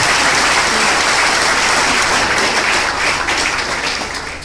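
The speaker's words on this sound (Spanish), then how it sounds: "para quien tiene un gran aplauso" Sustained, loud applause from a large audience at a political party congress in Argentina, dense and continuous throughout, tapering slightly at the end.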